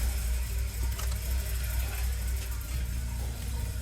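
A BMW E36 Touring engine idles steadily after oil pan and motor mount repair, a continuous low rumble with an even mechanical hum throughout, fairly close and without breaks.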